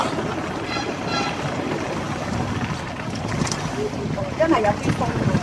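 Steady wind gusting across a bamboo raft on the Li River in Guilin, a constant broadband rush with low rumbling buffets that holds throughout, with a brief voice-like murmur rising near the end.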